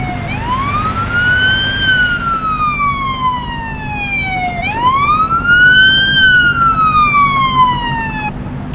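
An ambulance siren in the Police Simulator: Patrol video game wails loud and close, rising and falling in two long sweeping cycles over a low engine rumble.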